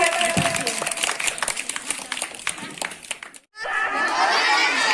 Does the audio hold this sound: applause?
yes